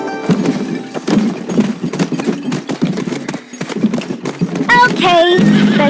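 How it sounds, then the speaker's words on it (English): Horse hooves clip-clopping in the video game Where Winds Meet, a steady rhythmic gait close by, with game character voices talking over it and a brief whinny-like sound near the end. "What a mighty horse!"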